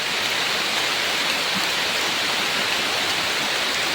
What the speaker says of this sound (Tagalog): Ayun, naulan na.